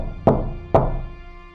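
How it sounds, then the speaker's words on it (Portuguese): Two sharp, heavy knocks on a door, about half a second apart, each ringing briefly before fading into a quiet background hum. "aconteceu mais 3 batidas, muito fortes, na porta"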